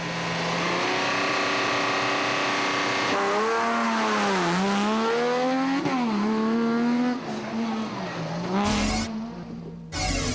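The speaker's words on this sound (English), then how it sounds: "with Anthony Taylor and Robin Houghton setting off third on the road in the second Team Castrol Toyota Hilux" A Toyota Hilux rally car in an off-road race revs hard and shifts through gears, its engine note climbing and dipping repeatedly, loud and close, before a sharp change near the end.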